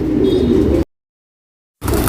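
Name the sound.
bird cooing, white-eyed bird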